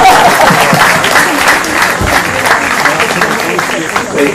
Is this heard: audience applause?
yes